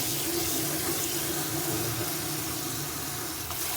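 Running water from a tap flows steadily onto a shampooed hairpiece, a continuous close splashing wash with no talking.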